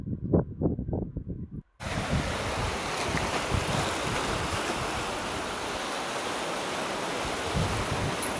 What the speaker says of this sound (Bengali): হালকা বাতাস, সাগরের গর্জন